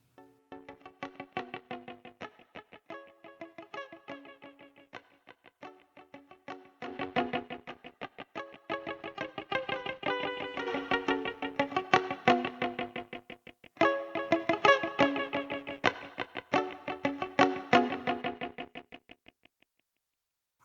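Guitar run through a Newfangled Audio Recirculate delay plugin, plucked notes trailing into rhythmic echo repeats that build in dense, loud phrases and then fade out at the end.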